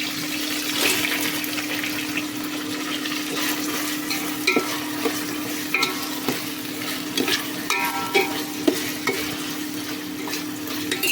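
Onion added to a pot of boiled mutton, bubbling and sizzling with stirring and scraping, plus a steady low hum underneath and scattered spoon clinks, close and moderately loud without speech.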